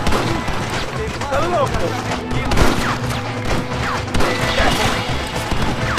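Scattered gunshots and crashing impacts ring out during a chaotic firefight in Red Dead Redemption, irregular bursts spread across the clip, with shouting voices over the top.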